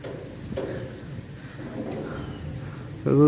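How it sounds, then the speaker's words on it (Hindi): Heavy rain falls with rolling thunder during a thunderstorm in Sialkot, Pakistan, a steady wash of downpour over a low rumble that swells louder near the end. "गरज चमक हो कुछ ना पूछें जनाब"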